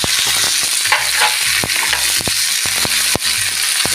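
Garlic and ginger fry in a pan for chicken chammanthi, a loud, dense sizzle broken by repeated stirring scrapes and taps, close up with no voices.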